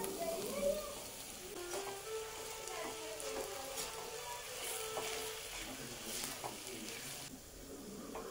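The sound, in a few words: spices frying in oil, mashed potatoes added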